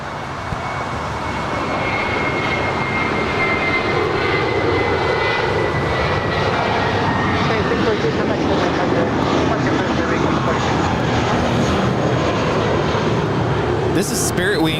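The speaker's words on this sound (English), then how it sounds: "This is Spirit Wings 643 departing to Chicago. It's an A320." Spirit Airlines Airbus A320 departing Los Angeles International Airport bound for Chicago, its jet engines a loud, steady broadband roar building and holding throughout, with wind buffeting the microphone.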